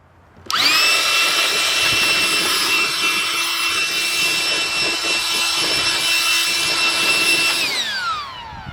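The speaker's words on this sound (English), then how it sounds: "the Ryobi blower comes in handy" A Ryobi blower runs steadily for about seven seconds, starting abruptly with a rising whine and winding down at the end, loud and close with a strong tonal whir over broadband air noise, no talking.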